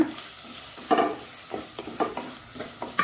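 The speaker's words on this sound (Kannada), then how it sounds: "ಚೆನ್ನಾಗಿ ನಿಧಾನಕ್ಕೆ ತಿರುಗಿಸಿಕೊಳ್ಳೋಣ" Marinated prawns are stirred into a frying masala in a pan for Mangalore-style prawn ghashi, with a spoon scraping in several uneven strokes over a soft sizzle, close and clear.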